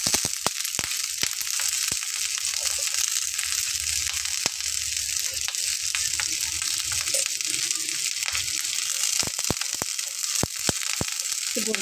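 Yardlong beans frying with shrimp and spices in a pan, steady close sizzling punctuated by repeated sharp utensil clicks and scraping as the mixture is stirred.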